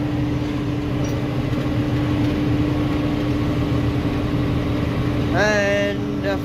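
Tractor PTO driving a peat harvester in an Irish bog, a steady mid-pitched mechanical drone running continuously, with a brief higher whine near the end.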